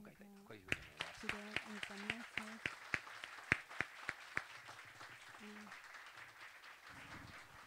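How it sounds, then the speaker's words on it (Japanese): A church congregation claps to welcome a visiting preacher, a run of sharp, distinct hand claps over a few seconds that thin out, with someone speaking over and between them. "拍手を持って迎えたいとこういうふうに思います"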